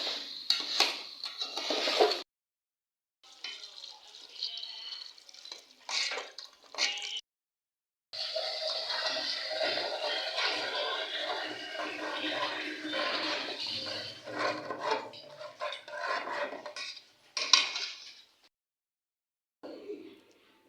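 Cut winter vegetables being washed in a pot for khichuri, with splashing water, sloshing and clanking of metal pot and utensils in close, intermittent bursts separated by brief silences.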